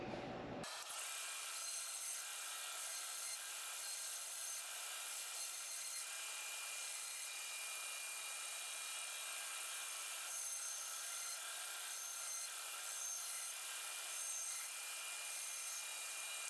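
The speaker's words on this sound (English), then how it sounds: "take it to the bandsaw and cut off that extra wood" A bandsaw trims surplus wood from a custom ring blank, giving a steady, loud, continuous high-pitched cutting whine that starts abruptly and runs unbroken to the end with no talk.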